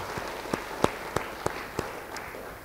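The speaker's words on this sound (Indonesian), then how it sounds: "Beri tepuk tangan bagi dia." A few sparse, distinct hand claps ring out at an irregular pace during a church service, fading over a couple of seconds.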